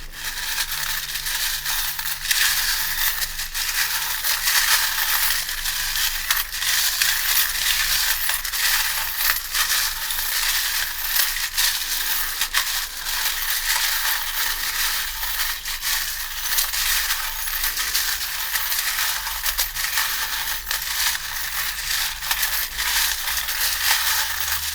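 Small tarot charms and dice rattle and clink continuously on a reading surface, a dense, steady clatter with no talking.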